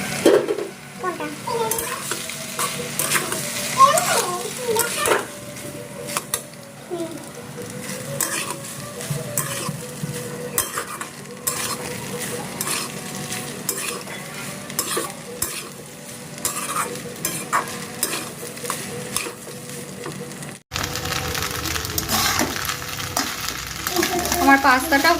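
Pasta tossed with boiled vegetables in a pan, stirred continuously with steady scraping and a light sizzle, with a brief break near the end before the stirring resumes.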